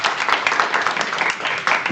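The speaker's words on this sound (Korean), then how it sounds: "박수로 맞아주시겠습니다" A conference keynote audience claps steadily in brisk, continuous applause.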